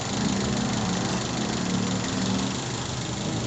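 A carbureted engine with a rebushed throttle body idles at about 700 RPM, its steady loud mechanical drone and rumble running continuously without variation.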